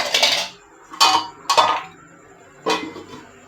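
Metal pots and utensils clatter as a lid goes onto a cooking pot of dal, four sharp close bursts of clanking with short ringing tails and quiet gaps between.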